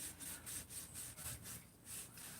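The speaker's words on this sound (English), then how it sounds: "Little Scotch-Brite on the sealing surfaces, the mating surfaces." A Scotch-Brite pad scrubs the sealing and mating surfaces of a Husqvarna 288 chainsaw crankcase, a faint rhythmic back-and-forth rasping in quick repeated strokes.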